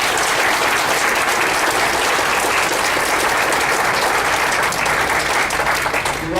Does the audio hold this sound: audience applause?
yes